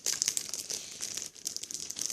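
Gift wrapping paper on a present crinkles and rustles continuously up close, with bursts of crumpling as the wrapping is pulled open.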